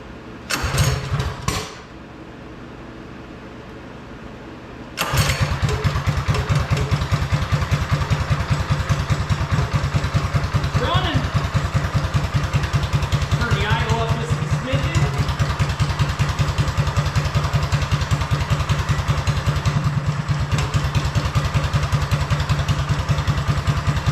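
A Coleman BT200X minibike engine sputters briefly on a failed start, then catches and runs at a steady, loud idle close by, with the idle raised slightly; a voice talks over it.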